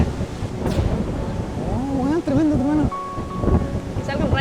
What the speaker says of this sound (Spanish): no solo lluvia, hay truenos también.